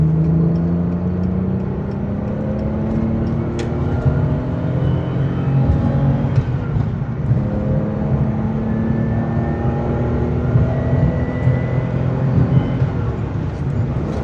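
A V12 BMW E31 850i with a new exhaust accelerates onto the Autobahn. A steady, rising engine drone blends with road and wind noise inside the cabin, fairly loud and unbroken for the whole stretch.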